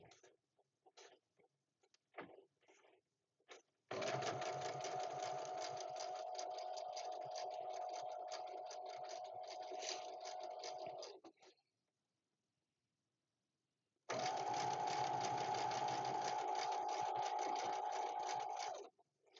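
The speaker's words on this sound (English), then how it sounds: "I am back tacking when I'm sewing these strips up together" A sewing machine joins quilt strips with back tacking in two long bursts, one about seven seconds and one about five, each a close, steady mechanical whir. Quiet gaps and a few faint taps come before and between the bursts.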